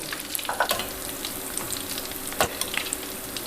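Sindhi lotus stem pakoras crackle and sizzle in hot oil, a steady bright hiss dotted with sharp pops and one louder spatter near the end, heard close with no talking.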